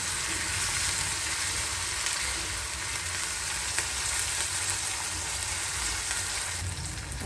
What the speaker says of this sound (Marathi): त्यामध्ये आपण टोमॅटो घालून घेऊया आणि त्यालाही परतून घेऊया